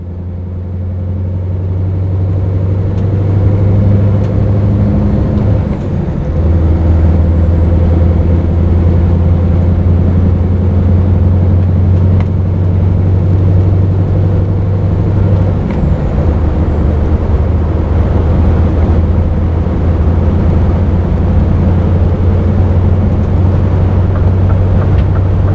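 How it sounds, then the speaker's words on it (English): A Scania S 580 truck with a V8 engine pulls along in manual mode in eighth gear, giving a loud, deep, steady low drone with a constant rumble from the cab that holds throughout, with no talking. "But listen to the sound of the V8."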